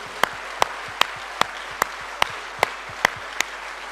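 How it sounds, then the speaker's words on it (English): A seminar audience claps together in a steady, evenly spaced rhythm, about two to three sharp claps per second, with a soft crowd murmur underneath. "Big round of applause for them"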